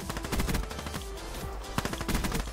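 Pistol fire in Black Ops 3 multiplayer, rapid repeated shots crackling in quick bursts at moderate volume, with scattered gaps and a few louder reports near the end.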